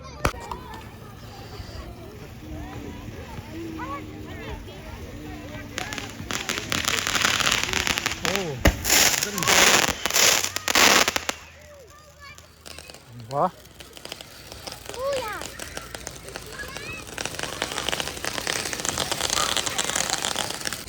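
Fireworks and firecrackers go off at an outdoor Fourth of July Independence Day celebration in the USA, with tents set up: dense crackling bursts that grow loudest mid-clip, with people talking throughout.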